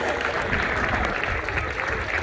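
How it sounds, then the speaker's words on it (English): Applause from the audience for Mark, an Under 14 Blues player at a youth football academy's presentation day, forms a steady, dense wash of clapping that holds throughout. "Let's have a little round of applause for Mark."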